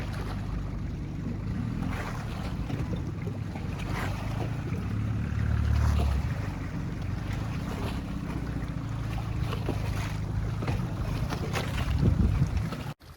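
A boat with a load of treated lumber comes in to a dock at a remote off-grid cabin site, its motor a steady low rumble mixed with wind and water noise throughout.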